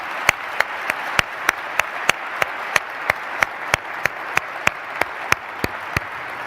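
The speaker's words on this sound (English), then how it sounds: "we're going to give Michael Lewis a huge, big round of applause for accepting our invitation." An audience applauds in welcome for author Michael Lewis at a one-on-one event, a rhythmic steady clapping with sharp regular claps standing out up front, continuing evenly throughout with no voices.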